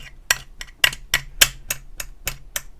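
Clay chopped with a kitchen-style chopping motion, giving about nine sharp, close chops in a fairly even rhythm with short quiet gaps between strikes.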